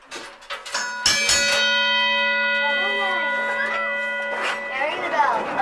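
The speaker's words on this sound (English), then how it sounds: "Ring the bell again" Bell clanging inside a Queen Mine tour cart in Bisbee, a few sharp rings early on followed by a sustained ringing tone, with excited voices talking over it.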